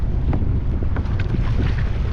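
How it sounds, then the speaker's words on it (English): Gusty wind buffets the microphone over rough sea water off Huntington Beach while kayaking, a loud, continuous low rumble with splashes and sloshing close by. "Gust, winds, water conditions make you feel like you're inside a washing machine."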